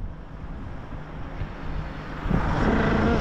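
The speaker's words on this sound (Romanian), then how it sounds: "Uite, și mai vine și o mașină." A car passing on a winding serpentine mountain road near Leptokarya, Greece, rising from a steady windy rumble into a louder, closer rush toward the end, with wind noise throughout and no talking.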